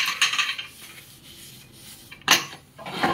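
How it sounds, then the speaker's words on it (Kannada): Dishes, pots and pans clatter and scrape during home dishwashing, with bursts of metallic clinks at the start, a sharp loud clank near the end and a final rattle, quieter rubbing between them; no talking. "ಬಾರ ಅಮ್ಮ, ಪಾತ್ರೆ ತೊಳ್ಕೊಡೆ."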